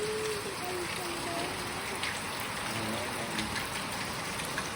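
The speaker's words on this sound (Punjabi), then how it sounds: "ਦੇਖੋ ਜੀ ਮੀਂਹ ਚੱਲ ਰਿਹਾ ਹਲੇ ਵੀ" A steady wash of rain patters and trickles throughout, with a voice faintly heard underneath.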